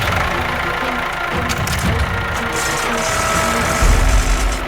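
A tractor engine idles close by in a steady, loud, continuous rumble with no voices over it.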